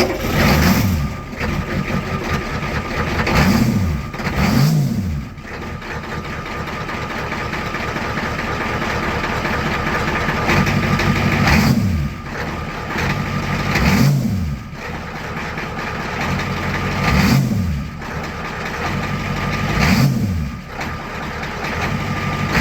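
A 7.3 IDI diesel engine with a new pyrometer, turning over in several repeated cranking bursts before settling into a rough, steady idle, close and fairly loud.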